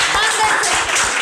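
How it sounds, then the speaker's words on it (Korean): Audience applause and clapping at a Korean variety show game segment, a short dense burst of many hands that holds steady throughout. "박수 주세요"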